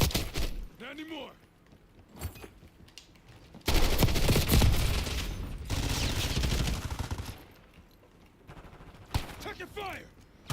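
Heavy gunfire from a first-person shooter video game bursts loud and sustained through the middle, with softer shots before and after and a player's voice talking over parts of it.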